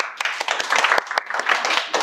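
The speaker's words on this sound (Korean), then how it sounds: "박수 한번." A small audience at a regional real-estate briefing claps for a participant being introduced: brief, close, uneven applause from a modest group, with sharp individual claps that thin out unevenly.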